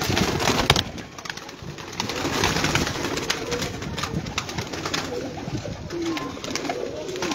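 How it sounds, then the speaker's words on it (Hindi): A large flock of about 150 to 200 caught pigeons coos and flutters close by, a dense, continuous murmur of soft calls and wing rustles with no talking over it. "तकरीबन 150 तो 200 कबूतर हो गया।"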